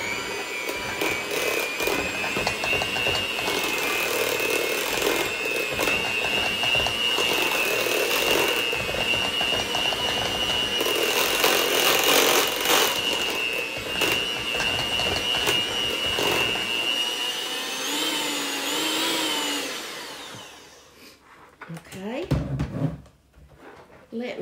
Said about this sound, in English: So since I'm having some people over, I'm going to use my hand mixer.